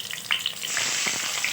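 Onions sizzle in hot oil for chicken biryani, a steady bright frying hiss broken by a few scraping stirs of a spoon, close and alone.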